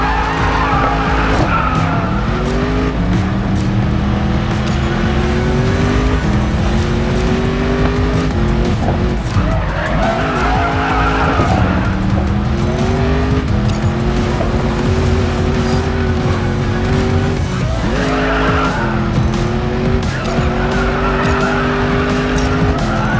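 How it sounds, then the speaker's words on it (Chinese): A car drifts in the Racing Master video game, its engine roaring steadily while long tire squeals rise and fall in sweeping waves. The sound stays loud and continuous throughout. "漂移角度太大，注意调整。"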